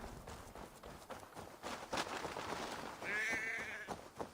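A sheep bleating in Assassin's Creed Valhalla, one wavering bleat rising over hurried footsteps and hoof-like clatter, moderately near, with no voices.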